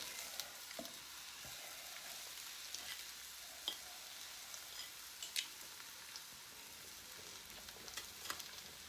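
An egg fries in a pan, giving a constant faint sizzle broken by scattered small pops and crackles, with no one speaking.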